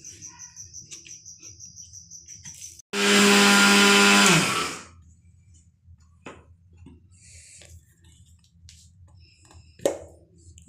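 A mixer grinder whirs loudly for about two seconds while grinding roasted ingredients for homemade baby cereal, then winds down. Steady insect-like chirping runs through the quieter stretches before and after, with a few faint clicks.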